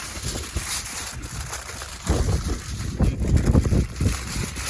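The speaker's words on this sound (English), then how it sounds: "Like I said, it's super windy, guys." Strong wind at an outdoor barbecue competition buffets the microphone in loud, low rumbling gusts that swell and build toward the end, with no voices.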